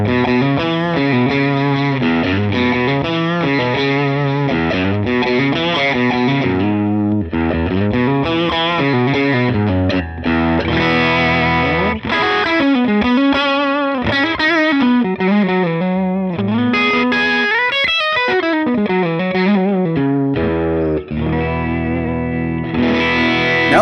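Electric guitar played through a Line 6 Helix amp model with sag set to 10, heavily distorted and effected, strumming chords and melodic phrases continuously and loudly with no talking.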